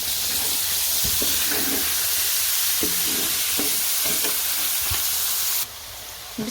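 Chopped carrots fry in a pan for a restaurant-style Chinese chicken biryani, giving a steady broad sizzle with a few soft stirring knocks, close and constant until the hiss drops away near the end.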